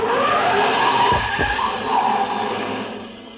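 Car starting and skidding as a radio drama sound effect on a city street, a loud continuous tire screech with engine rumble and a couple of low thumps midway, fading slightly toward the end.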